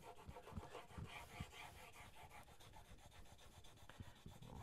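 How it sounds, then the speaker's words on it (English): A rusty chisel bevel is rubbed back and forth on a 500 grit sharpening stone, producing quiet, rhythmic scraping strokes at a steady pace, close up with no talking. "Holding that bevel right down flat on the stone, working out over the ends."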